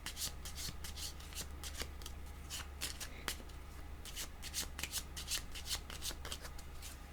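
Tarot-style cards being shuffled by hand, a steady run of crisp riffling flicks and soft slaps close up, with a faint low hum underneath and no talking.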